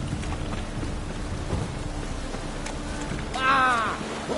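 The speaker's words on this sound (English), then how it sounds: "It's raining again." Steady rainfall in the video game The Witcher 3, a continuous hiss of drops on surfaces with a low rumble beneath, and a brief swell of higher ringing sound near the end.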